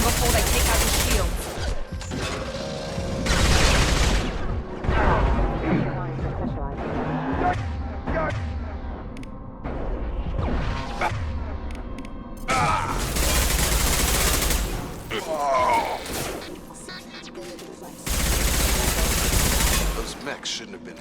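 Heavy gunfire aimed at mechs in the video game Mass Effect 2, with loud bursts of automatic fire and single shots in clusters, alternating with quieter stretches and mechanical clanks, with voices talking in between.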